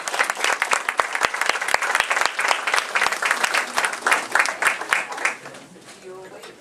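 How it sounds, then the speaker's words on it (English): Audience applause at a live radio-show performance, dense steady clapping from a crowd that swells and then thins out toward the end as a voice begins to speak. "Let's have a round of applause for that."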